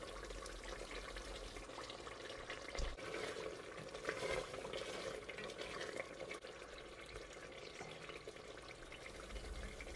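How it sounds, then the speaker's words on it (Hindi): Masala boti meat sizzles and bubbles in a pan with its watery juices as it is fried for several minutes, a steady close hiss with soft stirring scrapes throughout. "इसको 5 से 6 मिनट के लिए हम भून लेंगे"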